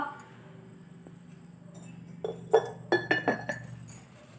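Ceramic storage jars, roughly one-kilo size, clink against each other as they are handled: a quiet stretch, then a quick run of five or six bright knocks near the end.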